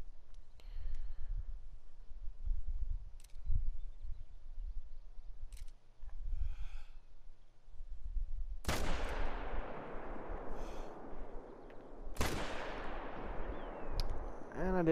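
Two sharp hunting-rifle shots in The Hunter: Call of the Wild, each a loud crack followed by a long rolling echo decaying across open terrain, spaced a few seconds apart after a stretch of quiet ambient sound and faint voice.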